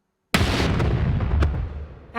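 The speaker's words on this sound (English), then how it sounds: "Add some explosions." A loud, booming explosion erupts suddenly, followed by a rumbling roar with a sharp crack partway through, then a rising whoosh at the end.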